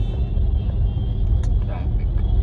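Heavy road traffic on Mohammed Ali Road in Bombay rumbles on continuously with engine drone, occasional brief horn-like tones and nearby vehicles, under talk from people.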